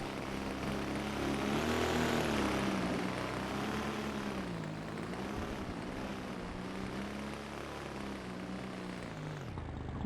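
Propeller aircraft in the Easyfly 4 RC flight simulator game, a steady droning engine tone with slowly wavering pitch, continuous and fairly loud, fading slightly at the end.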